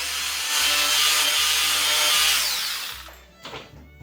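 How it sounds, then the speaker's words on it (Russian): Power drill boring into a wall with an 8 mm bit, re-drilling plug holes in a renovation job: a loud, steady high-pitched whine grinding through the material for about three seconds, then stopping with a few small scrapes and knocks. "Поэтому я взяла на 8 и сверлю еще просто разочек."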